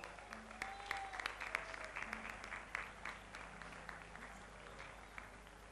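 Audience applause for a guitarist at an outdoor provincial music festival, fairly quiet and distant, with scattered claps and a few voices mixed in.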